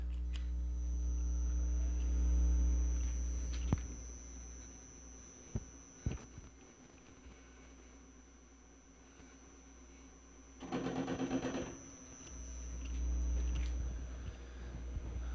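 A metal lathe spins at about 500 RPM in a home shop, giving a faint, steady motor hum with a few sharp clicks and a short louder burst of cutting noise partway through.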